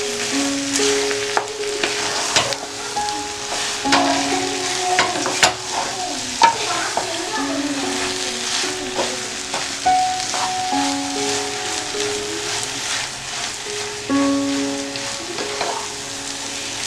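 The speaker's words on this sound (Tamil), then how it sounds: "எல்லா இடத்துலையும் மஞ்சத்தூள் முட்டை எல்லாம் படுற மாதிரி நல்லா கிளறி விட்டுக்கலாம்." Kerala-style tapioca is stirred with egg and turmeric in a pan, producing repeated metallic scrapes and clinks of a spoon over a steady sizzling crackle, close and rhythmic, with no speech.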